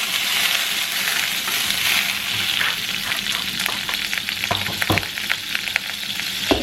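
Butter sizzles in a pan with canned callaloo, a dense, loud, continuous frying crackle with scattered sharp pops and stirring clatter, close by and without speech.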